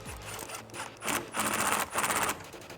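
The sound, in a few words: socket wrench tightening cold air intake clamp on Mustang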